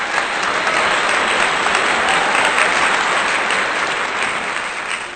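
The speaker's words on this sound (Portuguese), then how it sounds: "quero também pedir uma salva de palmas para o nome santo de Deus" A church congregation gives a steady, dense round of applause, loud and sustained from start to finish with no talk over it.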